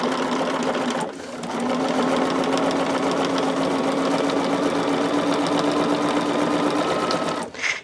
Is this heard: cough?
no